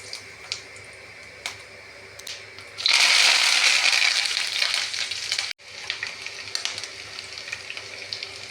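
Mustard seeds and fenugreek hitting hot sesame oil burst into a loud, steady crackling sizzle after a few quiet taps, with dense spluttering pops that thin out after a brief break.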